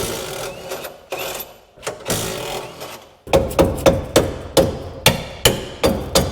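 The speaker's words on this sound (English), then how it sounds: "you can use an impact driver to get it off the rest of the way" An impact driver hammers on a control arm bolt during a suspension job, a few short irregular bursts followed by a steady rapid series of loud rattling impacts, close up and without talk.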